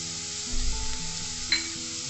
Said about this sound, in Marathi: कांदा आपला फ्राय होत आलाय.